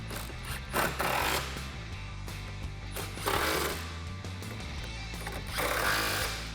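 Strut nuts on a 2015-2019 Mustang GT suspension tightened with an impact or power tool while installing BMR lowering springs: loud, harsh, rattling bursts that rise and fall over a steady mechanical drone, no talk.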